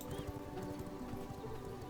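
Horse hooves clip-clop steadily in the vampire survival game V Rising, a continuous close rhythmic trotting over a dense game soundscape.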